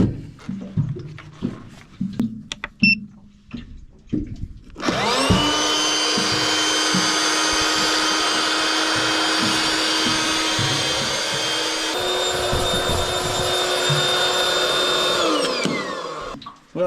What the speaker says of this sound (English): use it to blow up mattresses and all sorts